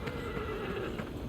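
A horse in the Elden Ring video game neighs in one brief, close whinny, with hoof clip-clops and game ambience underneath.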